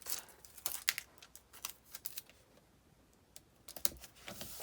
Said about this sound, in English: And then we can just add some Scotch tape